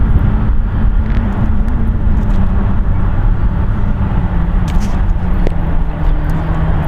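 A seven-year-old Swiss Boeing 777-300ER arriving from Zurich at San Francisco International Airport makes a loud, steady jet roar that holds evenly for the whole stretch, with no voices.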